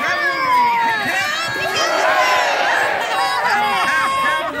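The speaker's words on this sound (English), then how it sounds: "cheer really loudly so your knight knows who they're fighting for" A large crowd of lords and ladies at a knights' tournament cheers and shouts loudly and continuously, with overlapping excited voices and children's shrieks packed close together throughout.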